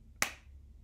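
Two sharp hand claps, one early and one near the end, separated by a quiet rest, from a children's music and movement class; each clap is crisp and close.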